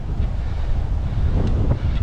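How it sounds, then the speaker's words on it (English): Loud gusty wind at a carp-fishing spot rushing and buffeting close to the microphone, continuous with a few sharper gusts near the end. "This wind."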